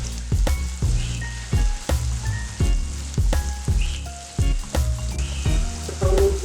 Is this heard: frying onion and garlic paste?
yes